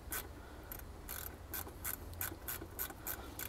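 Headlight bolts being loosened on a 2012 Toyota Sequoia, a series of short, faint ratcheting clicks in quick bursts, close by with no talk.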